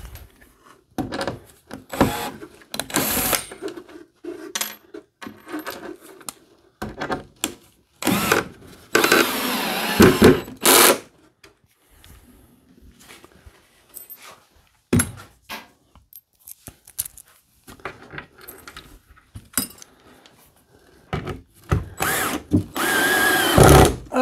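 A power drill drives screws to attach the wing of a P-51 pedal plane, coming in repeated short whirring bursts of varying length with clicks and handling noise in between, close and fairly loud, without speech.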